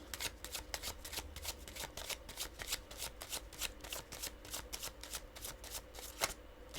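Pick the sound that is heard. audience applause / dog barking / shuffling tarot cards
shuffling tarot cards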